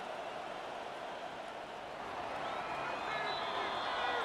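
Crowd noise from a Madden NFL 26 football video game forms a steady, distant roar that swells slightly toward the end, with faint whistle-like tones on top and no clear talking over it.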